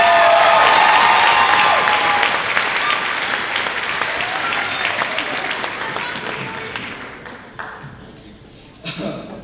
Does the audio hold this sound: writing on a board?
no